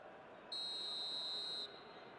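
A referee's whistle in an eFootball match gives one shrill, steady blast of about a second. It sits clearly above a constant low crowd hum.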